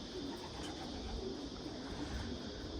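Racing pigeons coo softly at a loft on a hot, humid day, a low steady murmur of several birds layered over constant outdoor background noise.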